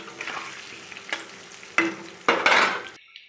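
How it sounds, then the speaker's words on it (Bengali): Potato pieces frying in mustard oil tinted with turmeric give a continuous sizzle, broken by sharp louder bursts and scrapes as a spatula stirs them, before a sudden cut to silence. "এবার আলুগুলোকে আমি ভেজে নেবো তেলের মধ্যে আলু দিয়ে করবো"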